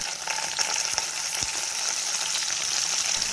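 Green chillies fry for dal tadka in a pan, giving a steady, loud sizzle of hot oil that runs unbroken throughout with a few faint clicks of stirring.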